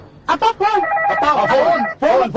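A telephone rings loudly and close by with a warbling electronic tone. It repeats in quick bursts with barely a pause.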